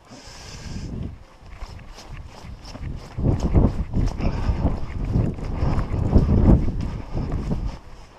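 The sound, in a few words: wind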